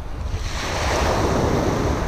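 Surf waves wash steadily onto a beach on an early spring day, a continuous loud roar of breaking water with wind noise across the microphone and no voices.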